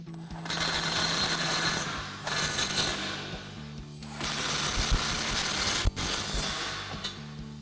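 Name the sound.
impact wrench tightening bolts on Bronco nudge bar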